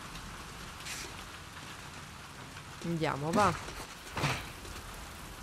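Steady rain pours in a dark, rainy area in The Last of Us Part II, a constant wash of falling water beneath a brief spoken exchange and a few louder bursts.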